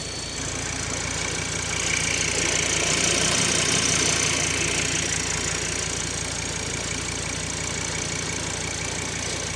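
An Audi TT RS engine idles steadily with a faulty vacuum pump squealing, a continuous high whine riding over the low, even engine rumble at close range, with no voices.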